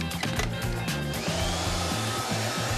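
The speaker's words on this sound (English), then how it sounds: "Now we're blow drying my hair" A hair dryer blows steadily on hair being styled after a GK Hair frizz treatment, a loud, continuous rushing whoosh that fills the whole stretch without a break.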